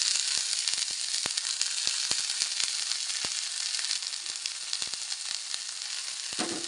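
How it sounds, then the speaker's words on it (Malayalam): Turkey berries hit hot oil in a frying pan and sizzle loudly and continuously with a dense hiss, punctuated by sharp crackles and pops, close up with no talking. "കൂടെ തന്നെ നമ്മൾ കഴുകി വാരി വെച്ചിരിക്കുന്ന ചുണ്ടക്കയും കൂടെ ഇതിലേക്ക് ഇട്ട് കൊടുക്കാം"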